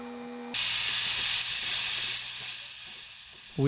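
A compressor-driven spray gun hisses glue onto a roof membrane in a steady, loud, broadband rush lasting about three seconds. A short tonal hum comes just before it, and a rising whine at the end.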